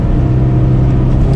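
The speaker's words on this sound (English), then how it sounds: "Might have to mash the gas a little bit to get up there." A Subaru BRZ, a rear-wheel-drive car with a limited-slip differential, drones with a steady, loud low engine hum as the driver presses the gas, close and continuous for just over a second.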